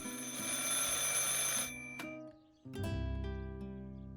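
A telephone ringing inside the video game Martha is Dead, a bright bell-like ring sounding clearly and alone, pausing briefly before ringing again.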